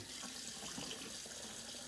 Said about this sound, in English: I sit there and I rinse it in hot water too